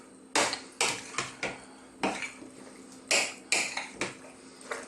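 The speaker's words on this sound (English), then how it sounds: "let's spoon in some of this delicious beef sauce that we've made" Spoonfuls of beef sauce scraped and mixed into pasta in a baking dish for chilli beef baked pasta, giving about ten sharp metallic clinks and taps of a spoon against the dish in an uneven rhythm, close and fairly quiet.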